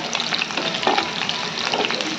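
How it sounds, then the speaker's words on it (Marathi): Curry leaves, garlic and onion temper in hot oil in a kadhai with a dense, close sizzle. Small crackles and spits pop through it, and a spoon briefly scrapes the pan. "कडीपत्त्याची फोडणी द्यायची"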